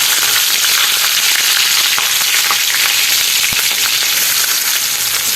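Mustard seeds, split urad dal and green chilies frying in hot oil for a tempering, giving a loud, steady, close sizzle with crackling pops throughout and no voices.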